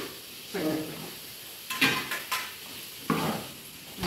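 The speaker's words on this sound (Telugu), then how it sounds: "బూడిద గుమ్మడికాయ ముక్కలు వేస్తున్నాం." Ash gourd pieces tossed into a hot pan sizzle and fry, with bursts of stirring and scraping against the pan, close and without speech.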